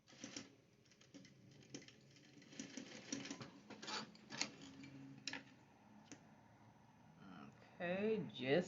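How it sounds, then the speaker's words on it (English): A sewing machine stitches a tag back onto a pair of men's pants during a waist alteration. It makes faint, uneven ticking and clicking bursts, with a soft voice and handling noise in between. "we're going to stitch our tag back onto the pant"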